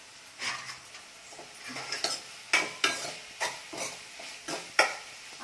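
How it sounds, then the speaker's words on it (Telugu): Sesame seeds roasting in a pan for a Telugu chutney, stirred with a spatula in repeated scraping strokes over a faint sizzle, the scrapes growing louder and sharper toward the end. "ఇందులోనే కొంచెం నువ్వులు మగ్గిపోతాయి అవి ఎక్కువ అయితే చేదైపోతాయి"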